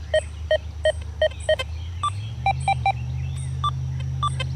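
Repeated short electronic beeps from an XP Deus 2 metal detector fitted with an HF2 coil, sounding a target tone over a low steady hum; the pulses come roughly evenly spaced, some clear and some weaker, as signal strength varies.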